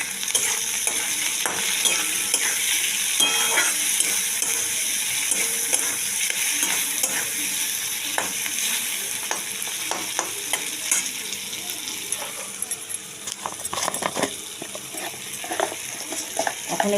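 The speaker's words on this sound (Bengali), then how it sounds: "দেখুন সব একসাথে আমি ভেজে নিচ্ছি" Squash fries in oil with chili powder and turmeric, a constant bright sizzle heard near, punctuated by frequent scraping taps of a utensil stirring the pan, with no one speaking.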